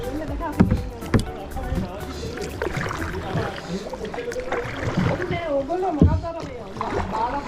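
A kayak paddled along the Spreewald waterways in Germany, with rhythmic paddle strokes and splashes beneath voices talking nearby throughout.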